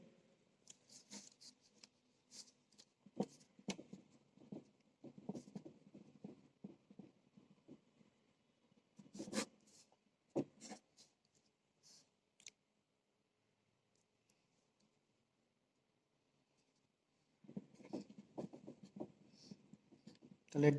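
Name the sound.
writing during a lecture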